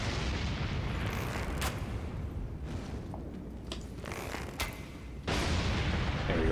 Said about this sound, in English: Instant kill once the barrel blows up.